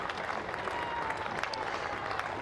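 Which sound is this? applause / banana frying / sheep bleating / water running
applause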